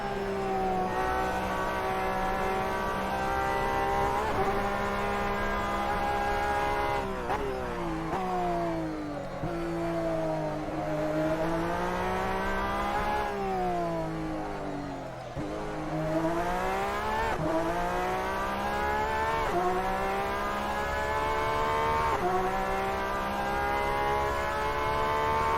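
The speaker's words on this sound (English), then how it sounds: "You definitely know there's a race going on if you hear a Porsche." Porsche race car in a sim racing game, its engine roaring loud and continuous with steady revs rising and falling through gear changes, plus brief tire noise, alone without talk.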